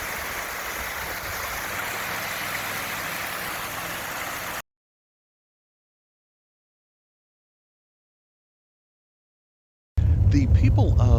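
A roadside waterfall swollen by heavy rain pours into a drainage ditch beside a highway, giving a steady broadband rushing roar. It cuts to silence partway through, then returns with added noise.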